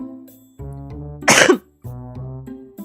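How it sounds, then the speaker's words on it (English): A single harsh cough bursts out between stretches of steady music, loud and close, lasting about a quarter second. "I'm sorry if I'm coughing sometimes"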